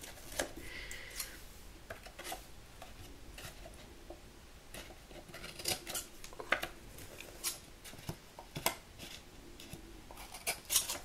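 Scissors snip repeatedly through paper while a box is being made, giving crisp, uneven cutting clicks close up over faint background noise, with no talking.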